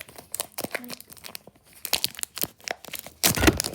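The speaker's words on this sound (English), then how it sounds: "Rip it open just like I did." A foil Pokémon card pack being ripped open, with crisp crinkling and tearing bursts building to a loud final rip, amid brief talk.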